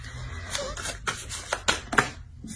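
Tarot cards being shuffled by hand in a series of quick riffling bursts, several short crisp flurries close by with brief pauses between, no speech over them.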